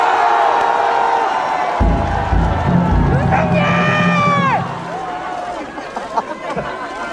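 A large crowd at a political rally in Gongju roars and cheers, with whoops and chatter swelling loud in the middle before easing back to a murmur; amplified speech carries through at times.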